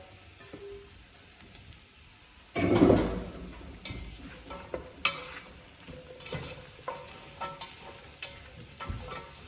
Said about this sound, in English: Our paste is cooking off. We're going to add our sweet potato.